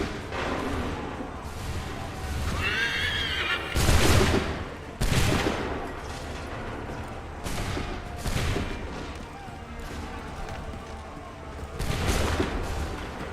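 Musket volleys in Assassin's Creed III, several loud broadband bursts of massed gunfire spread across the stretch, each with a rolling tail, mixed with shouted commands and battle ambience.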